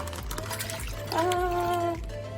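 Liquid poured into a dish while preparing vegan tuna made from watermelon, heard as a soft trickling stream over steady background hum, with a brief tonal ringing as it fills.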